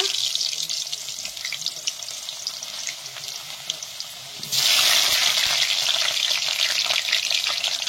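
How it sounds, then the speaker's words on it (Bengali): Potatoes dropped into hot oil over a clay stove, the steady background hiss jumping into a louder, continuous crackling sizzle once they hit the pan, close up. "তো গাইস, তেল গরম হয়ে গেছে, আলুগুলো দিয়ে দিল।"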